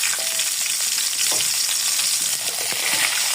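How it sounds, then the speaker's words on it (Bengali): Cauliflower and cut pumpkin frying together in oil in a pan for a vegetarian curry, producing a constant dense sizzle with occasional soft scrapes of stirring, close and fairly loud. "কেটে রাখা কুমড়োগুলোকে দিয়ে আবার সব ভালো মতো ভেজে নেব।"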